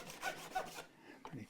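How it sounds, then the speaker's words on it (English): Sandpaper rubbed by hand over the wooden neck of a CMI '72 Telecaster-style guitar, several quick back-and-forth strokes, close and alone, before a short pause and a softer final pass. "we can just hand sand over the top just to get rid of any skid marks"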